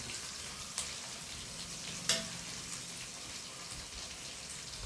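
Curry leaves and grated coconut frying in a pan for chutney powder, giving a steady, close sizzle throughout with two brief sharper crackles early on.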